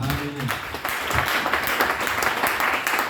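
A church congregation applauds in praise at a French-language service, a dense, sustained burst of clapping from many hands, after a few spoken words at the start.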